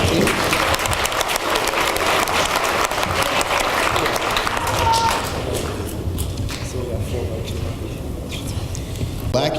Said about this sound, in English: How about a round of applause for our team?